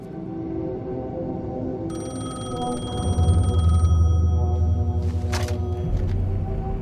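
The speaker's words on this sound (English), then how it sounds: "The phone was ringing." A telephone rings in the video game Alan Wake 2, a shrill electronic trill that starts partway in over a low droning backdrop, then cuts off before a brief noisy burst near the end.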